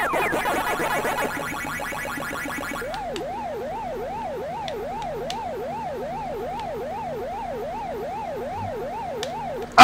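A wailing, regularly undulating siren tone from a Pac-Man arcade video game repeats steadily and alone at moderate loudness, following a brief burst of busy electronic game sounds at the start.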